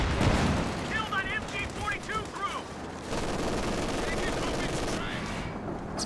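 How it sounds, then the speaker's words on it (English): Machine gun fire in the real-time strategy game Company of Heroes 2 crackles in steady, rattling bursts amid battle noise, with voices talking over the first half. "Doing that with a machine gun now"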